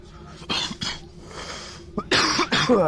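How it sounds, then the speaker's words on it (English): Several harsh coughs sound right up close and loud, in uneven bursts, with a couple of the strongest ones near the end. "I just coughed directly into my mic"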